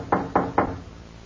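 Three quick, evenly spaced knocks on a door, a crisp radio-drama sound effect, close and alone.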